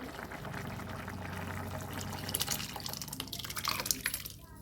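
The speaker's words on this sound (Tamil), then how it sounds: "இப்போ பருப்பு தண்ணி ஊற்றிக்கலாம்." Lentil cooking water pours steadily into a pot of sambar, splashing and gurgling more as it continues, close by with no talking.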